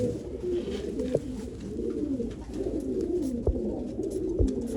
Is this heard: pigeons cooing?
yes